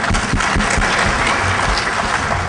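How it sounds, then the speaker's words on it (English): Hacking-conference audience at DEF CON applauding Mudge, a loud, fairly close burst of many hands clapping, steady and unbroken throughout. "Everybody clap it up for Mudge"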